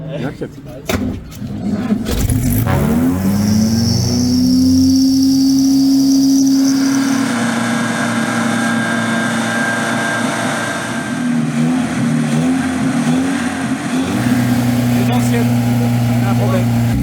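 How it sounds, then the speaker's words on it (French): An old classic car's engine with a sticking throttle rises and holds at a high rev, droning steadily for many seconds close up while people talk over it. "Dès que je touche à l'accélérateur, en fait, le gaz reste trop haut."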